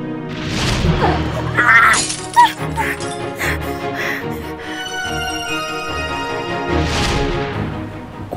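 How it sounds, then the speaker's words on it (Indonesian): Glass of a newly bought car's window shatters in a sharp crash with clinking fragments, set within a dramatic scene with a continuous music bed underneath. "Kaca yang baru saja rusakin."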